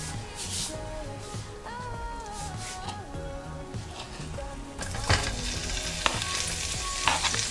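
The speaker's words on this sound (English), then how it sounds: "Now we're going to cook off this seasoned meat" Seasoned meat sizzles steadily in a hot pan, a dense frying crackle running throughout, with occasional stirring scrapes and a louder burst of sizzle toward the end.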